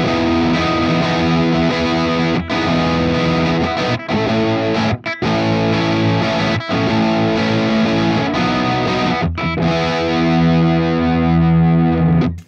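Electric guitar run through a compressor pedal with the presence knob turned all the way down, giving dense, sustained distorted chords and riffs with a few brief gaps, loud and steady without any voices.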